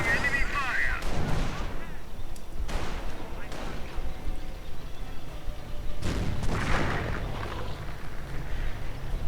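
Sniper shots and heavy 150mm artillery shelling in a WWII real-time strategy battle, with repeated deep booms and sharp cracks rolling across a steady battlefield din.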